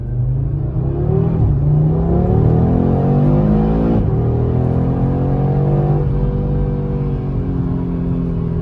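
A 401 hp Audi RS3 8Y quattro accelerates hard through the gears. The loud engine rises in pitch, drops at each shift and rises again, heard steadily from inside the car with no talking.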